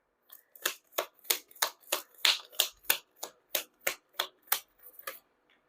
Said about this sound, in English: it's quite a struggle to shuffle these cards because of the shape.